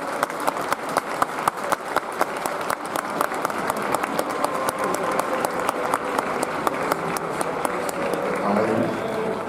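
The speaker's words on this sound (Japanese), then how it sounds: "どうか皆さんご家族にもねぎらいの大きな拍手をお願いします。" A stadium audience claps loudly and steadily for a family at soccer player Keisuke Iwashita's retirement ceremony, with sharp, evenly spaced clap peaks over a wash of crowd noise throughout.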